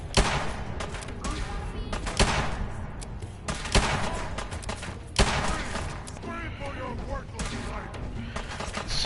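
Gunfire from the video game Fallout 4: several sharp shots and bursts spread across the stretch, with a voice talking over the firing throughout.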